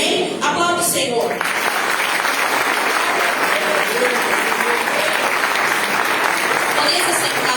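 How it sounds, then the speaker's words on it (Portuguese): A church congregation applauds through a miracles and worship service, with sustained, dense clapping filling the hall after a voice speaks briefly over the first second. "Aplauda o Senhor."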